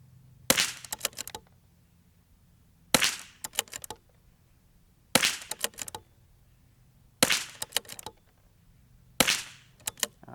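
Five sharp .22lr precision-ammunition shots ring out about two seconds apart, each a loud crack followed by short rattling echoes, with quiet between shots.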